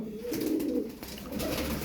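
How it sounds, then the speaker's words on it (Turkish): Show pigeons kept in a coop give continuous soft, rolling coos, several overlapping calls close by and steady in level, with no voices over them. "Alın size güzel kümes kuşları"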